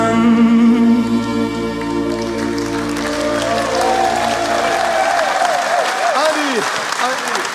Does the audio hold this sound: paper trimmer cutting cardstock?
no